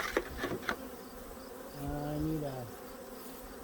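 Many honeybees drone steadily around a hive during an inspection on a warm late-season day, close and continuous, with a few sharp handling knocks and someone speaking briefly.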